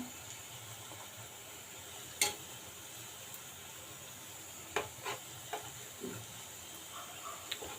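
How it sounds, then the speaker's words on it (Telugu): Karachi rava sweet pieces fry in a pan until brown, giving a soft, steady sizzle with a few sharp clicks and scrapes of a utensil against the pan, no voices. "మనకి బ్రౌన్ కలర్ వచ్చేంత వరకు బాగా వేపుకోవాలి"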